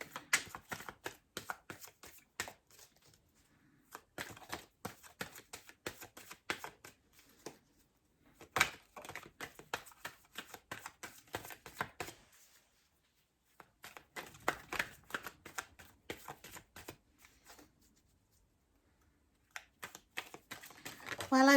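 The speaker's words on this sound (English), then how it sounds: "While I'm shuffling or getting the deck ready" Bursts of crisp, rapid riffling as tarot cards are shuffled up close, in several runs broken by short pauses.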